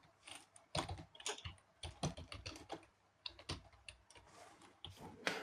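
Keyboard keys typed in irregular bursts of close, sharp clicks with short pauses, someone entering bubble sort code in Turbo-C on a computer.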